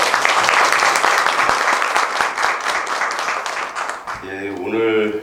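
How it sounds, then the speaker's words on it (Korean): A lecture audience at a Korean research forum gives a loud, sustained round of applause that gradually thins, and a voice starts speaking over the last clapping near the end. "박수 부탁드리겠습니다."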